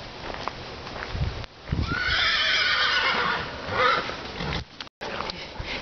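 A horse whinnies loudly and close by in an outdoor setting, one long drawn-out neigh that lasts a couple of seconds, with quieter rustling before and after.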